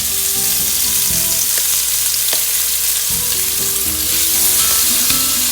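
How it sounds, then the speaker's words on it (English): Chicken sears in a hot pan with a loud, steady sizzle and crackle that holds close and constant throughout, with no talking. "Listen to this sear. That's what you want. That sound."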